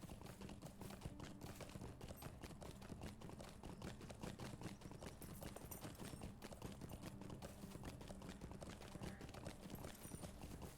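Horse hooves clip-clopping steadily in the online game Lord of the Rings Online, a fast, even, continuous trot at constant loudness with no voices over it.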